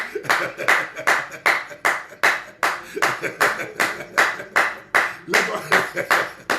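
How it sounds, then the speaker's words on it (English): A church congregation at a prayer service claps hands in a strong, steady rhythm, loud regular beats repeating throughout, with voices underneath. "Let us clap for the ladies in the house."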